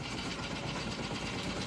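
Steady outboard boat motor running continuously at a constant idle-like drone, broadband and fairly loud, with no voices.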